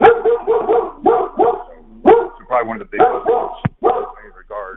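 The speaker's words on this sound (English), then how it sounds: "Sorry about my dog." A pet dog barks in a rapid series of sharp, loud barks right next to the microphone, with someone talking in between the bursts indoors.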